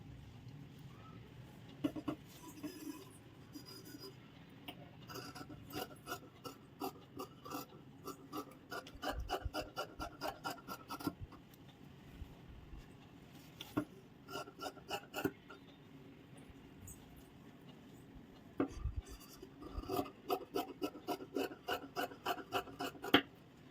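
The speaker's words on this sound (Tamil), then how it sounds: "இப்போ நம்ம கட் பண்ணிக்கலாம்" Scissors cut blouse fabric for a back-hook blouse, making quiet rasping snips in repeated rhythmic runs with short pauses between cuts, close and soft throughout with no talking.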